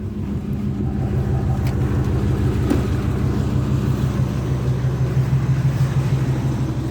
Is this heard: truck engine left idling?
yes